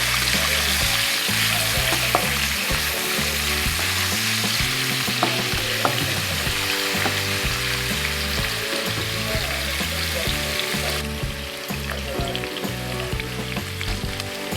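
Onion sautéing in oil in a pan for a beef steak recipe gives a continuous loud sizzle and crackle, with occasional stirring clatter and a steady rhythmic tonal background throughout.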